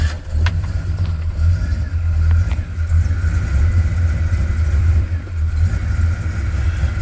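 A 1967 Pontiac GTO V8 runs steadily on its choke after a cold start, a loud, continuous low rumble that holds level throughout with no revving and no voices.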